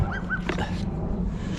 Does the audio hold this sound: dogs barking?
yes